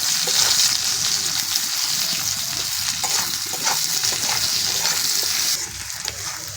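Onions and potatoes fry together in a pan with a loud, close, continuous sizzle and crackle, stirred throughout with scraping and shuffling noises.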